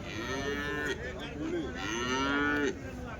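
Cattle at the Sunday cow market in Chintamani moo repeatedly, several long drawn-out lowing calls in a row, fairly close and loud over a low background murmur.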